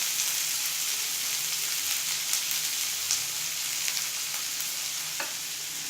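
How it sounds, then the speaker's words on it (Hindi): Onions, green chilli and ginger fry over low heat in a pan with cumin, giving a steady, close, even sizzle with light crackles throughout and no talk. "सिम पर ही हम प्याज को 1 से 2 मिनट तक भून लेंगे"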